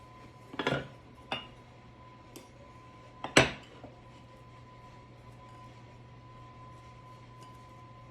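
Cutlery clinks and scrapes against a plate while delicate powder buns are cut open, a few sharp separate contacts near the start and middle, then quiet, with a steady low hum underneath.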